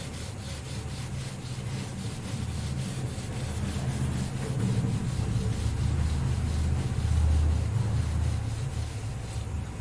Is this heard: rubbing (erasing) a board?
yes